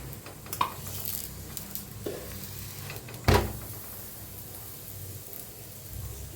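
Puran poli fries on a griddle with oil and ghee, giving a steady soft sizzle, broken by a few clinks and one sharp knock of a utensil partway through.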